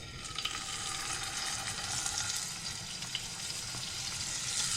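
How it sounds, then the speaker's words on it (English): Small steaks sear in hot beef fat, giving a constant, crackling sizzle with scattered pops, close and steady from start to finish with no voices. "These little steaks right in the beef fat."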